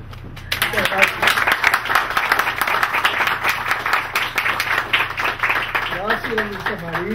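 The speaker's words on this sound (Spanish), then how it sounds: "Un aplauso." Audience applause at a tribute ceremony for a philosophy center, a dense wash of clapping that starts abruptly after a brief pause and carries on steadily at close range, with some voices and shouts mixed in toward the end.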